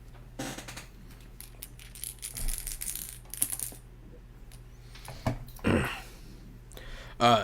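Dice clatter onto a table during a tabletop roleplaying game, several short rattling bursts and sharp clicks close to the mic over a low steady hum.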